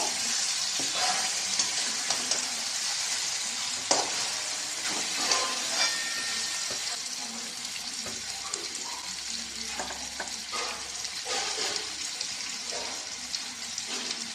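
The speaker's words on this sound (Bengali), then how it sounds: "অল্প অল্প করে চিকেনগুলো চলে যাচ্ছে আমাদের এই কষা মশলার মধ্যে" Chicken pieces, including leg pieces, being added and frying in thick kosha masala: a continuous, fairly loud sizzle with scraping and stirring clatter and a few bumps as pieces drop in, no talking.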